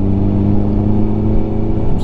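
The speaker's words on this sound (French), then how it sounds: "il y a une voiture." A car engine hums steadily nearby on a country walk in autumn, a continuous mid-pitched drone holding at the same loudness throughout with no clear approach or fade.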